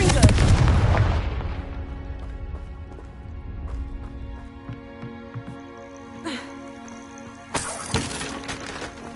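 The Confringo spell in Hogwarts Legacy bursts in a loud, shattering explosive crack that fades into a ringing tail, followed later by smaller sparkling magical hits and chimes.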